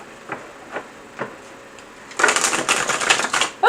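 A deck of cards gives a few soft isolated taps, then a dense, rapid riffle shuffle of brisk fluttering clicks, close and fairly loud, ending in a brief louder snap.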